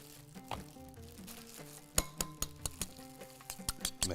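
Omelette eggs seasoned with salt and black pepper are mixed in a bowl, a run of quick rhythmic clinks of utensil against the bowl, close and fairly loud, after a softer start.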